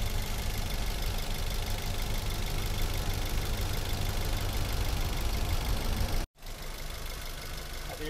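A Toyota Veloz car engine idles steadily and smoothly up close, a constant low hum that cuts out briefly near the end before resuming.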